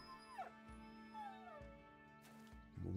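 Dog whimpering and yipping in the video game Battle Brothers, a few short rising whines over a steady droning game soundtrack.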